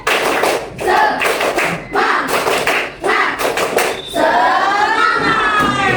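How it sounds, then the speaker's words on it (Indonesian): A standing class of Indonesian schoolchildren claps out a rhythmic cheer, loud counted bursts of hand claps separated by short pauses, ending with voices rising together. "tepuk semangat yang paling semangat."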